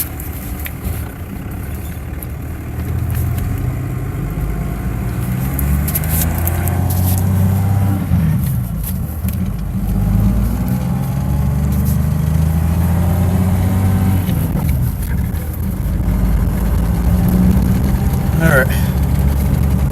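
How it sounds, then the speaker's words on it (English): Dodge Cummins diesel pickup crawling uphill in first gear without throttle, a low steady engine rumble inside the cab under someone talking, with some rattles near the end. "Don't even need gas going up the hill in"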